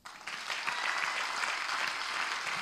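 A church congregation applauds, with steady, full clapping that swells quickly and holds evenly from near start to finish, filling the room.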